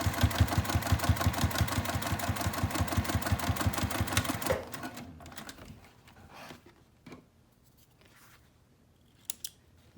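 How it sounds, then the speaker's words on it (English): Sewing machine top stitching along a straight edge of a fabric sling: fast, close, rhythmic mechanical chattering for about four seconds, then stopping into faint rustling and a couple of small clicks. "I do need to top stitch across this straight edge here"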